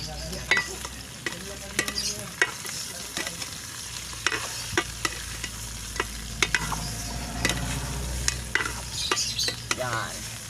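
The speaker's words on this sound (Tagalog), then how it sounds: "Gisa muna natin to mga idol, yung ating native chicken." Already-cooked native chicken sautéed in a pan for a tinola, with a constant close sizzle under frequent scraping and clacking strokes of the spatula against the metal, no voices over it.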